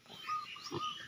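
A free-range piglet grunts softly a couple of times, close by but quiet, with light background noise and no speech.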